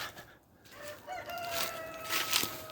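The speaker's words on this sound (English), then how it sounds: "Here's a neighbor's rooster going off down there." A rooster crows in the distance, faint and drawn out, over quiet outdoor ambience.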